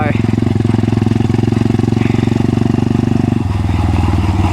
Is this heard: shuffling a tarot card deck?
no